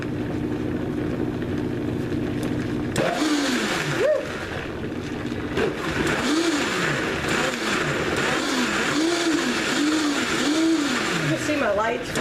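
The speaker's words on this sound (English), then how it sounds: "then pulse it a few times" A Vitamix blender pulsing apples for apple sauce: a loud motor whirs throughout, repeatedly spinning up and down in rhythmic pulses after a steady start, with a voice talking over it.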